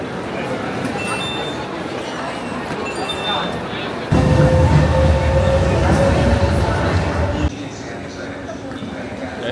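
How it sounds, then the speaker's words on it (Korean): A train runs through a station in Rome. It rumbles and screeches in a steady rush, with a louder, closer surge of wheels and a metallic whine in the middle. "열차를 기다리고 있습니다."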